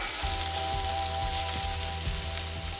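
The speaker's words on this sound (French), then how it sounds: "une fois que vos oignons sont grillés, on va y mettre la tomate concentrée" Tomato paste hitting browned onions in a hot pan for a Neapolitan-style veal sauté, giving a dense, continuous close sizzle with a faint low rhythmic thumping beneath, no talking.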